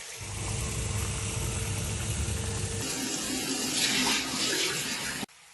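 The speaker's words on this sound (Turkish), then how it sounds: "İstanbul'da musluklardan akan kirli su vatandaşların tepkisine neden oldu." A tap in Istanbul runs with dirty water, a loud, steady close gush that shifts in tone midway and stops abruptly at the end, with no talking.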